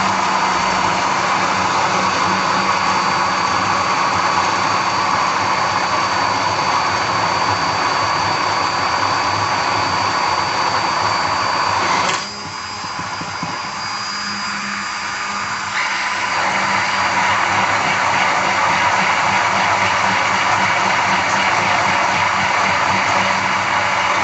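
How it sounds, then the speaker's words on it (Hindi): A kitchen blender whirs loudly and steadily, blending oil into homemade mayonnaise, with a brief dip in the motor's pitch midway before it picks back up again, no voices over it. "और अब इसको ब्लेंड करेंगे।"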